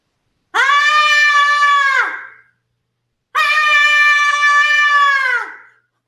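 A voice imitates a screaming potato latke frying in hot olive oil, letting out two long, loud, wavering shrieks with a pause between.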